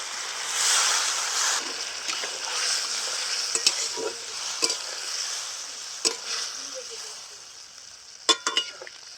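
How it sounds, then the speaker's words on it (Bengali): Water is poured into a sizzling pan of Bengali egg posto curry, giving a loud hissing rush that slowly tapers and softens, with scattered spatula clicks and knocks near the end. "আর পরিমাণ মতন জল দিয়ে দিচ্ছি।"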